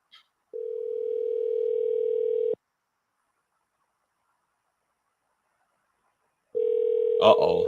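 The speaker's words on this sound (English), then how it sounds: "They done let it ring twice" An outgoing phone call rings twice: a steady, moderately loud ring tone sounds for two seconds, silence follows for four, then the ring starts again, and a short clatter breaks in near the end.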